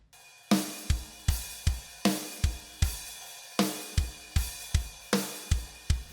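Open hi-hat with a repeating rhythm on a Get Good Drums One Kit Wonder sample kit for a shoegaze beat, a constant bright sizzle washing over punchy kicks and snares in a steady, loud groove.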